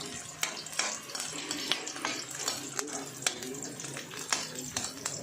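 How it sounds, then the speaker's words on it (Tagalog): Onion and garlic sautéing in a pan for a spicy pork curry with coconut milk, a steady sizzle broken by repeated sharp scrapes and clinks of a spoon stirring, close and fairly loud. "atin na pong iginigisa nating sibuyas at bawang"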